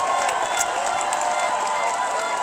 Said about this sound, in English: Let's give the Canadians a nice round of applause